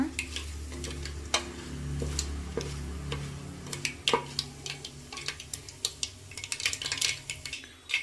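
Pulao spices and ingredients fry in a pan for mushroom biryani, with a steady low sizzle under repeated clinks and scrapes of a spoon stirring against the metal, fairly close.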